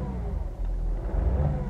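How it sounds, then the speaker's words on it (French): A BMW F10 M550d gets a short blip of the throttle while parked, and the engine rises into a brief, fairly loud rev before settling back. "je vais mettre un petit coup de gaz pour voir"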